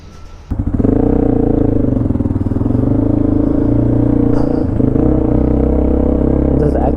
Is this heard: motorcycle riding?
yes